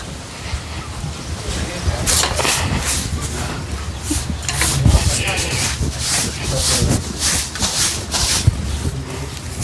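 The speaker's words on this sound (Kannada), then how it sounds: "ಬರೀ ಪಟ್ ಕಸ ಹೊಡ್ಕೊಂಡು ಮುಗಿಸ್ಕೊಂಡು ಹೋಗುನಂತ" Someone sweeps a village house floor with a broom, making repeated short scratchy brushing strokes in bursts, close by, while people talk.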